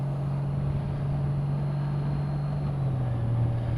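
A 2018 Honda Goldwing Tour, its six-cylinder 1800 cc engine pulling hard under acceleration, a steady low drone that shifts pitch near the end, with wind rush throughout and no talk.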